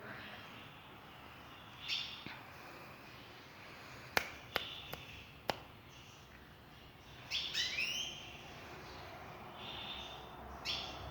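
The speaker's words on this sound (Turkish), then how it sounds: "burada bir tane kuş var" Faint chirps of a bird eating spilled feed come and go against quiet background hiss, with a few sharp clicking taps in between.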